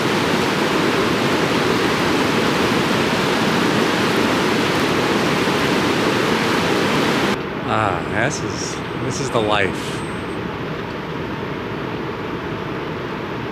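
Colorado River water flows in the Grand Canyon at Diamond Creek with a loud, steady broad rush that fills the first half, then cuts away to calmer surroundings where a person speaks.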